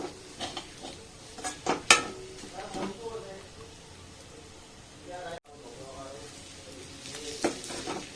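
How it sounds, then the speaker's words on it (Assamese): Masala of ginger and garlic being stirred and fried in a lightly oiled pan for an Assamese duck curry with ash gourd, a steady soft sizzle with scraping spoon strokes, while someone talks over it. "ভালকৈ লৰাই থাকিব হা, নহ'লে লাগি যাব মছলাখিনি"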